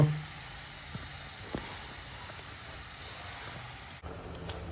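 Chopped onion and tomato masala frying in a pan, a steady soft sizzle and hiss with a few faint stirring clicks, low and continuous with no talking.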